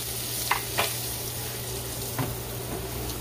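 Garlic goes into hot curry in a pan for Jamaican-style curry crab and fries with a steady, close sizzle, broken by a few soft stirring clicks; no one speaks.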